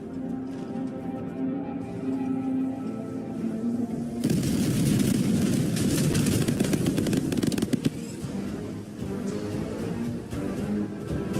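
Stratagem strikes in Helldivers 2 blast apart a Terminid bug outpost, a sustained roar of booming explosions and crackling debris that rises abruptly, rumbles on for several seconds, then settles beneath game sounds.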